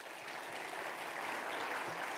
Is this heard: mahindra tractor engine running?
no